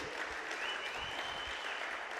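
Applause for a person at a rugby reunion comes as a continuous, fairly faint and distant hiss of many hands clapping, steady throughout with no voice on top.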